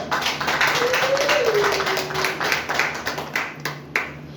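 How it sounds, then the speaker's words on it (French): A church congregation claps in a steady rhythmic beat that grows more distinct toward the end, with voices and a rising sung or shouted tone mixed in. "Est-ce que je peux entendre les acclamations pour notre Seigneur?"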